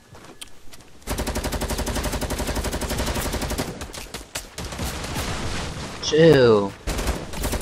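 Video game automatic gunfire rattles out in a rapid, steady burst lasting several seconds, then breaks into shorter bursts and single shots. A voice cuts in over the shooting with a brief exclamation.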